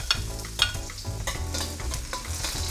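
Four garlic cloves frying in hot vegetable oil in a pan, a steady close sizzle with intermittent stirring scrapes and clicks, no voices.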